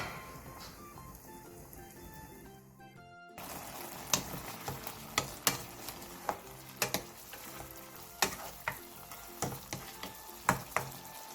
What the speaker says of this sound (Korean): 물이 바글바글 끓어오르면 청양고추를 넣고 중약불로 줄여 20분에서 30분간 졸여주세요. 조리는 중간중간 한 번씩 뒤적여주세요.